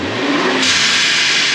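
A 2021 Lincoln Navigator EcoBoost with an upgraded intercooler and blow-off valve, revving outside: a short, loud engine surge followed by a broad hissing whoosh of released air, with no voices.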